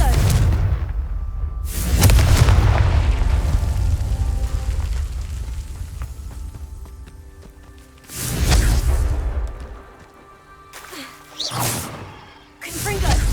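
Confringo blasting spells go off in Hogwarts Legacy, several heavy booming explosions with whooshing fiery tails, spaced a few seconds apart, with a voice calling out between blasts.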